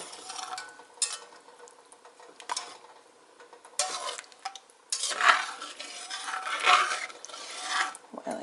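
A spoon stirs potatoes and corn into a pot of cod chowder, producing intermittent scraping, rasping strokes against the pot with soft sloshing, close and moderately loud, no speech.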